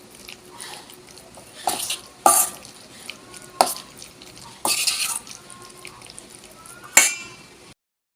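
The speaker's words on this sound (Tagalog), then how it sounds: "Haluin lang guys hanggang sa malagyan lahat ng harina ang ating dulong." Tiny dulong fish being stirred and tossed in flour in a bowl, with irregular scraping and clinking of utensil against the dish, some strokes louder, at close range.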